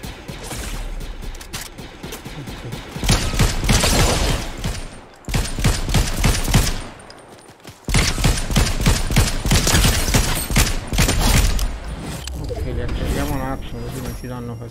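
Fortnite gunfire in a Star Wars-themed match, loud bursts of rapid shots repeating across the clip with short gaps, mixed with game sounds while a voice talks over it.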